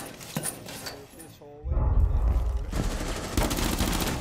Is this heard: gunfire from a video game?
yes